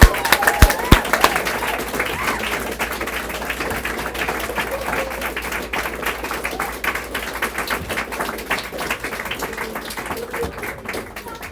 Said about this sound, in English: Let's give another warm round of applause for all the storytellers thus far this evening.